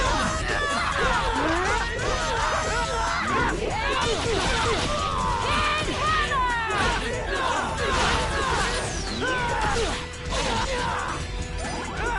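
Thunder Spark attack in .hack//G.U. Last Recode unleashes a dense barrage of crackling electric zaps, crashes and whooshes, with character shouts mixed into the loud, chaotic battle effects.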